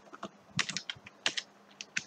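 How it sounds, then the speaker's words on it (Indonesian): Code is typed on a computer keyboard in quick irregular bursts of close, crisp key clicks with short pauses between them, and no voice over it. "kita langsung ketik saja"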